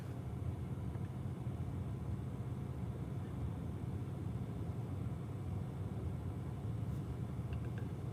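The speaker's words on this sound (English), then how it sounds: "So I'm on my way to work, driving to work." Steady low road rumble from inside a car driving to work, a constant droning hum with no gaps and no talk.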